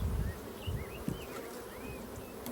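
Honey bees buzz around an open hive with brood box and honey supers, a faint, steady hum with individual wingbeat whines drifting in and out close by.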